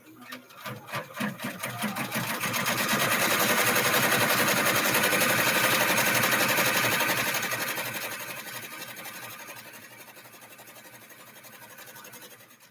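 An embroidery machine stitches out a bag with a fast, steady mechanical chatter that builds in loudness, holds, then eases slightly toward the end, running alone and close up.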